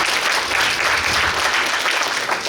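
Audience applause for a speaker at a city policy talk show on ecological transport, a continuous wash of many hands clapping at even loudness throughout.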